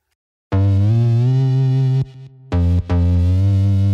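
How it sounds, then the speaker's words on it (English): Heavily compressed, distorted bass synth through Cubase distortion and Squasher plugins, holding sustained notes with a thick, buzzing tone, briefly cutting out before resuming, loud and upfront with no talking. "Then I added a squasher."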